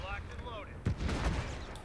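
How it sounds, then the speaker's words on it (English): Mortar fire in Company of Heroes 3, a short sharp thump followed by a second muffled impact, heard over brief battle noise with a faint distant whistle beforehand. "that was not too good of a mortar shot for them"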